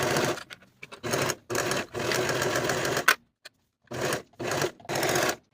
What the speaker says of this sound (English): And then I'll sew this seam with my 1/4 inch seam allowance.